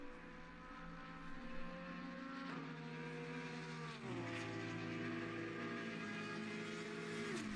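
Race cars circling a track during an open practice session, a distant, faint engine drone with steady pitch steps as gears change, running continuously without any talking.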